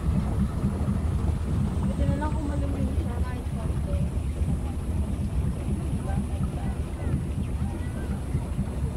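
A motor boat's engine drones steadily throughout on a river, mixed with wind buffeting the microphone and people talking over the noise.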